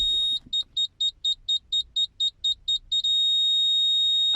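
Echo Master reversing aid in a car put into reverse gear gives a rapid run of about eleven loud, evenly spaced high beeps, then settles into one continuous steady tone, with no talk.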